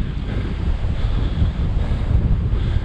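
Steady wind buffeting the microphone on an overcast countryside walking trail in the English Midlands, a continuous low rumble with gusty swells throughout, no voices.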